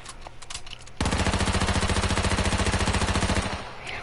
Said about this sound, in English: Spinning around shooting.